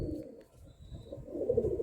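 Laldom and Giribaz pigeons give soft, low cooing calls close by, a continuous murmur that swells louder toward the end.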